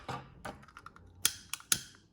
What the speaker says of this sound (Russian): подрезаем лишнее ножницами